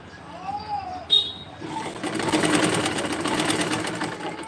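A sewing machine stitching a joint on a dress starts up after a few quiet moments and then runs steadily with a fast, even mechanical whir, close and loud, as birds coo faintly in the background.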